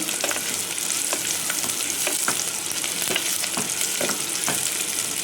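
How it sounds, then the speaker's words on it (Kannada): Ghee rice ingredients fry in a pan with a loud, steady sizzle, broken by regular scraping strokes of a stirring spoon. "ನೋಡಿ, ಇದು ಇವಾಗ ನೋಡಿ ಫ್ರೈ ಆಗ್ತಾ ಬಂದಿದೆ."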